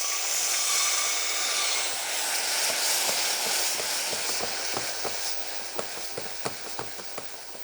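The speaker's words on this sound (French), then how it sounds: "Le caramel a une belle couleur, on va le déglacer avec le balsamique blanc." Caramel in a pan is deglazed with white balsamic vinegar, giving a loud, rushing steam hiss that slowly fades into a quieter sizzle with a series of small bubbling pops and spoon taps.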